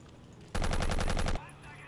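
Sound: gunfire in the video game Battlefield 1942

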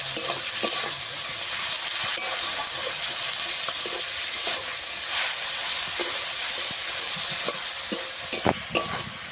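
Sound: onions frying in a pan for chicken dish

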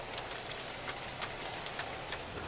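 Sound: Aristo model railroad gondolas and tank cars rolling on track

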